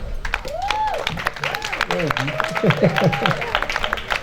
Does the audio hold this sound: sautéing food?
no